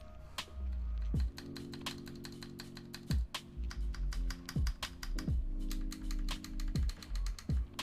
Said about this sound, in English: Backspace sounds kind of clacky. Wonder if it's just that switch.